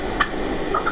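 A live turkey hen gives a few short, honky yelps, one near the start and a quick pair toward the end, over a low background rumble.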